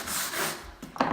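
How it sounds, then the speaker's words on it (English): A steel brush scraped across a hardwood floor during refinishing, giving a close, continuous rasping scratch with a brief rougher stroke at the end. "Another thing you could use is a steel brush."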